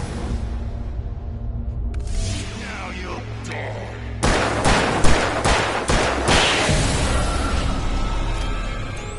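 A handgun fires in Alan Wake: a quick run of loud, sharp shots rings out close by after a low, tense ambient drone, with the blasts echoing briefly between rounds.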